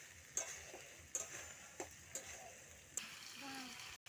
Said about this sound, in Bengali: ফুলকপি আলু দিয়ে দিয়েছি, ভালো করে কষিয়ে নেব